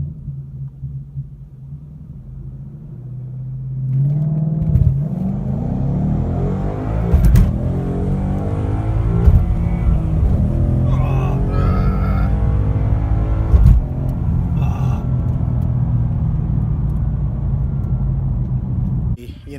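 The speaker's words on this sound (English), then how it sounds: "It's gonna have really bad wheel hop because it's completely stock" A stock Mustang idles with a low rumble, then accelerates hard with a rising engine roar, with several sharp bursts and judders along the way, while people talk over it.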